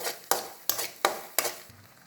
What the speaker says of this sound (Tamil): இப்போ இந்த அரைச்சி வச்ச விழுதை இதில் போடணும் இந்த எண்ணெயில் போட்டு நல்லா வதக்கணும்